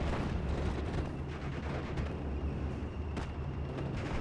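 Artillery fire in a World War II strategy video game, dense rumbling booms and blasts that merge into a continuous loud bombardment, with a few sharper cracks.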